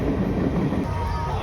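A train arriving, heard as a short burst of loud, close rumbling and wind-buffeted noise from the approaching carriages.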